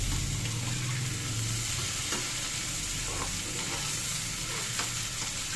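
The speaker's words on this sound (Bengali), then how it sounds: "এই যে ভাজাটা বসিয়ে দিয়েছি যে ভাজাটা করে নিচ্ছি" A vegetable fry cooks in a pan, giving a loud, continuous sizzle with stirring scrapes over it, close and without any talking.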